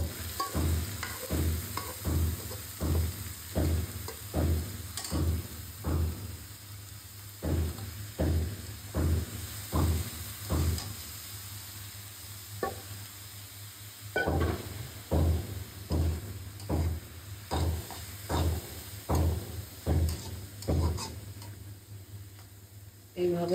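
Grass pea greens (khesari shak) frying with chopped ginger in a pan, with a steady sizzle under regular, evenly paced stirring strokes about once a second, close and fairly quiet.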